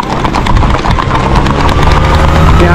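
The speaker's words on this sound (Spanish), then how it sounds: "ya el caballo de paseo era Max, caballo grande donde nos sentamos" A big horse named Max, ridden with riders seated on it, clip-clops in a quick, steady rhythm of close hoofbeats over a low rumbling background.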